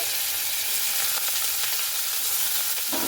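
Steamed jackfruit seeds with nigella seeds frying in a pan, a dense, even, close sizzle with faint stirring scrapes throughout, no talk.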